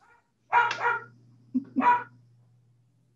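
Pet dog barking in a quiet indoor room, two close, clear barks followed by a short yip.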